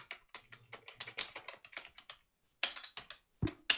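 Rapid clicking keystrokes on a computer keyboard, close and fairly quiet, in bursts with a short pause, then a few sharper taps and a thump near the end.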